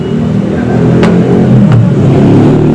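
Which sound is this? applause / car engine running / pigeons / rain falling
car engine running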